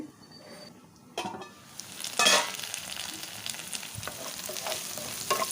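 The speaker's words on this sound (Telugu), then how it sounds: "టూ మినిట్స్ వరకు మంచిగా వేయించుకోవాలి" Onions frying in oil in a pan, an ongoing sizzle broken by scraping stirs and a louder burst near the middle, with no speech.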